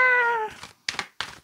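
A human voice imitates a cat's meow: one drawn-out tonal mew that fades, followed by two short, sharp bursts, close and fairly quiet, with no other talk.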